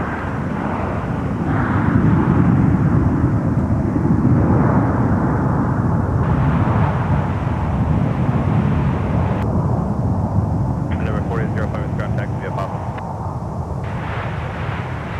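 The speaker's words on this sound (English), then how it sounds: "Got a Southwest 737 MAX 8. Arriving on 12 right." Southwest Boeing 737 MAX 8 arriving on runway 12 right at Minneapolis–St. Paul airport, a loud sustained jet roar with a broad rumble that holds steady throughout, with no talk over it.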